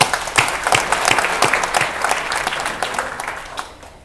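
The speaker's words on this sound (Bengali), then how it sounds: "তাদের জন্য আমরা একটা হাততালি দিই" A crowd of young people and teachers at a Bangladeshi ceremony breaks into loud applause, dense clapping with some sharper individual claps, rising quickly and slowly tapering off near the end.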